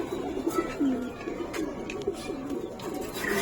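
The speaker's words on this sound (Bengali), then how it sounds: "আরেকটা পেয়ার বড় মাথার কবুতর" Big-headed pigeons coo softly in repeated low, throaty phrases, close by with faint background noise and occasional light clicks; no speech.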